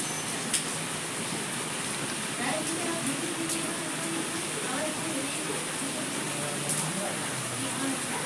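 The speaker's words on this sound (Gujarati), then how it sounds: "આજે પણ વરસાદ જો શરૂ થઈ ગયો છે" Rain falling outdoors during monsoon weather, a steady broadband patter with scattered sharper drop ticks, moderately close and continuous, with faint voices in the background.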